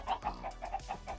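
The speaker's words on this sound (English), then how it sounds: "Yeah, we got some baby chickens." Baby chickens in Minecraft give a quick run of soft, evenly spaced clucks and peeps, fairly faint and close.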